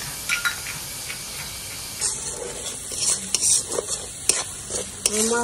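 Spices with salt and turmeric fry in a pan, a soft continuous sizzle broken by scraping stirs and sharp clinks of the utensil against the pan, close and moderately loud.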